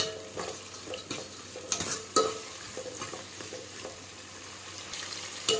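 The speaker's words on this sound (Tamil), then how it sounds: "வெங்காயம் பொன்னிறமாக வர வரைக்கும் நல்லா வதக்கிட்டே இருங்க" Onions for vendakkai puli kulambu sizzle gently in a pan while a spoon stirs and scrapes them, giving irregular knocks and clinks over a low frying hiss, with no talking.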